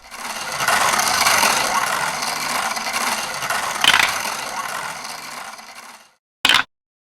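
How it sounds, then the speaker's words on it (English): A prize wheel spun by hand gives a fast rattling run of clicks that gradually slows and thins out over several seconds before stopping, followed by one short sharp knock after a brief silence. "I'm gonna take a chance and spin the wheel again"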